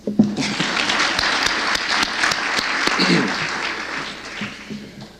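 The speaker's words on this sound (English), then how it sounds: "That's an applause line." Audience applause at an annual university lecture event fills the hall as a dense, sustained round of clapping with a few sharp individual claps near the front, then gradually dies away, with faint voices underneath.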